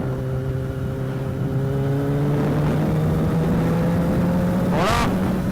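Yamaha XJ600 motorcycle engine humming steadily while riding, a sustained tone that slowly shifts pitch under wind rush, with a brief higher rev near the end.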